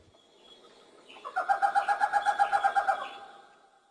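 Call of the Flores scops owl, a single sustained, rapidly pulsing tremolo hoot that swells up, holds for about two seconds and fades, clear and alone against quiet background.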